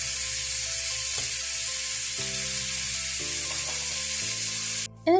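Chicken rubbed with turmeric, chili powder, garam masala and salt sizzles as it fries in a pan, a steady bright hiss running beneath tonal background music before cutting off briefly near the end.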